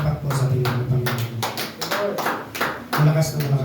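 A church congregation in Coron, Palawan claps during a worship service, a steady patter of hands that runs under a leader's voice speaking throughout, fairly close and moderately loud.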